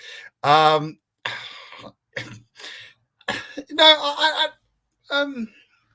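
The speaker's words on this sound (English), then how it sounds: "Elbow cough, elbow cough, elbow cough." Several sharp, loud coughs in short bursts separated by brief pauses, some with a voiced, throaty quality, close to the listener.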